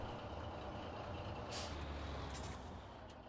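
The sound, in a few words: truck engine and air brake in video game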